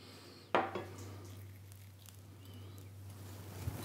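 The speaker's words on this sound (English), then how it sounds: "I'll just cut the end off that just to check that it's cooked." Cutlery cuts into a cooked Birds Eye cod burger on a plate with one brief, close clink and scrape, then only faint background hiss.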